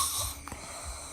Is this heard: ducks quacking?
no